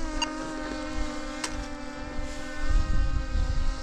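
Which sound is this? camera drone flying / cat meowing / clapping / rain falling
camera drone flying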